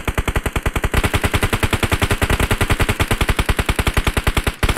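Rapid, sustained automatic gunfire from a shooter video game, loud and steady bursts repeating with a regular rhythm and no talk over it.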